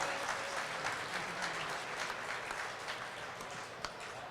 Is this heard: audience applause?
yes